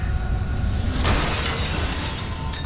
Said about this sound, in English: And I hear a glass window broken.